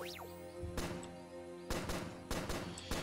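Gunfire from the video game Starbound: a handful of sharp synthetic shots in quick bursts over a steady electronic background hum, crisp and close.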